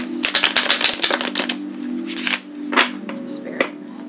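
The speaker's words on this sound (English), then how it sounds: "Usually don't shuffle that long, but I just felt like it." Tarot cards shuffled during an oracle card reading: a rapid run of crisp riffling clicks over the first second and a half, then a few scattered card slaps, with a steady low hum underneath.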